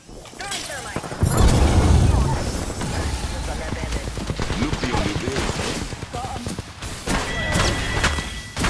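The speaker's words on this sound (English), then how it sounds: "Throwing thermite." Thermite grenade thrown in Apex Legends amid a busy firefight, a heavy thump near the start followed by dense crackling bursts of gunfire and impacts, with voices talking over the mix.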